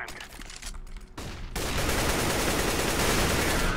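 A flashbang grenade goes off in Counter-Strike, a sharp burst followed by a sustained loud ringing hiss that fills the rest of the moment after some brief clicks and game noise.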